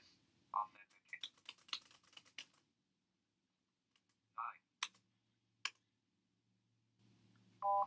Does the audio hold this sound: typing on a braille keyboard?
yes